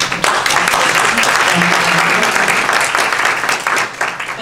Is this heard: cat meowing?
no